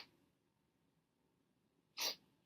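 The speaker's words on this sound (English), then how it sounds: "I gotta sneeze." A single sharp sneeze bursts out close to the mic after a couple of seconds of near silence, short and loud against a quiet room.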